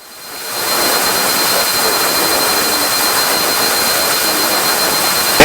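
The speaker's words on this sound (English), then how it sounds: "We're doing 100 knots in a twin engine little rocket." Cessna 340 twin-engine light aircraft cruising at about 100 knots, heard from inside the cabin as a steady, loud, broadband engine and propeller roar that swells up in the first second and then holds constant without talk.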